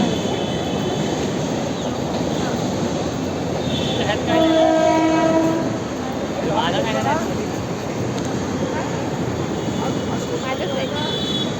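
Loud rumbling train at a railway station with a steady horn blast partway through, amid the bustle of a busy platform and background voices.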